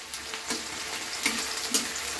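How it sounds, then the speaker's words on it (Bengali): Chopped onion fries in hot oil for an egg curry: a steady close sizzle with a few scraping stir strokes over it and no voices. "তেলটা গরম হয়ে গেছে আমি এতে দিয়ে দিচ্ছি পেঁয়াজ কুচিটা"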